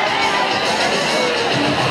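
Crowd at a men's roller derby bout between DBCR and AZMD, a dense steady murmur of many voices filling a large venue, continuous and fairly loud.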